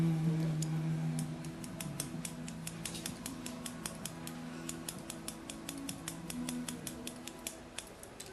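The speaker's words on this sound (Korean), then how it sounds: "가위로 질감 처리를 하시는 것도 되게 좋아요." Scissors snipping and texturizing hair during a short haircut in a salon, a rapid series of crisp close metallic clicks over a low background hum, no voices.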